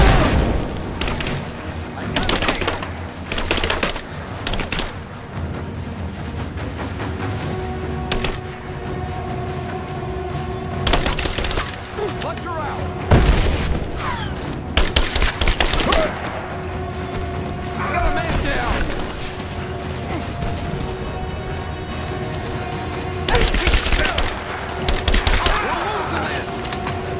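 Heavy gunfire in the action game Rise of the Tomb Raider: repeated loud gunshot bursts and booms, with splintering impacts, in irregular volleys over a busy combat soundscape, with voices calling out between them.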